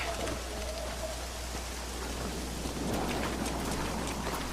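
A storm in the Red Dead Redemption video game brings steady heavy rain with low rumbling thunder, a continuous wash of noise at moderate level throughout.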